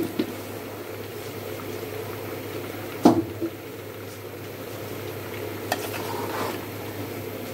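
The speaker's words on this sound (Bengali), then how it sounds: "এবার নাড়া দিব।" Chicken curry with potatoes is stirred in a pan as it simmers: a quiet, continuous bubbling and sizzle, broken by one sharp scrape or knock of the spoon and a few lighter taps.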